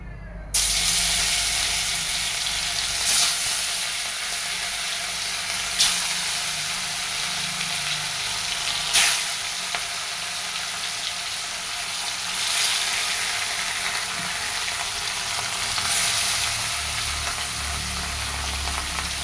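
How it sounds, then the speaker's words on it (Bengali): Steady hiss of salted, turmeric-coated fish frying in hot oil, continuous and fairly loud, with occasional sharp pops spaced a few seconds apart. "মাছ ভাজা বসিয়ে দিলাম"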